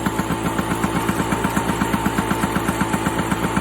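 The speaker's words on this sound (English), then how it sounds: "All right, I've got it running. I'm gonna let it run for a second, and then I'm gonna mess with the idle." A 2005 Genuine Stella 2T two-stroke scooter engine idles after a carburettor rebuild, a steady, fairly loud putter with even rapid pulses running throughout and no talk.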